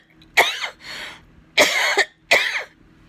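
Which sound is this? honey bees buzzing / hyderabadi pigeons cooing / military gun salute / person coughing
person coughing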